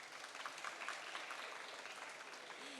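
An audience at a charity art competition award ceremony applauds, a steady, moderately distant wash of clapping hands with no voices.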